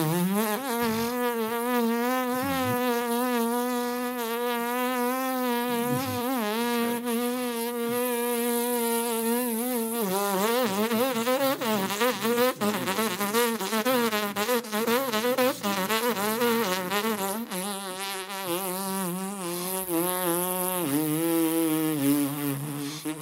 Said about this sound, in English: Keep a buzz and keep your chops buzzing like that, you could go on forever.